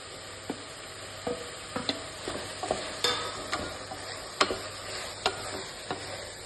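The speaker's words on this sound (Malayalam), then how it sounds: "ഇതിലേക്ക് അതെടുത്ത് വെച്ച ചെമ്മീൻ ഇട്ട് കൊടുക്കാം" Prawns frying in a well-browned masala for a prawn rice dish, an even sizzle with repeated scrapes and clicks of a spatula against the pan at an irregular, steady pace, close up, with no talk.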